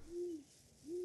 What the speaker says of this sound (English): Is that an owl?